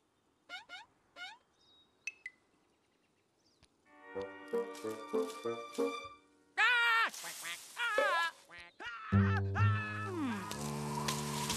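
A cartoon duck quacks in a run of bright, nasal calls mixed with honking and playful music, the sounds arriving in bursts after a quiet, sparse opening.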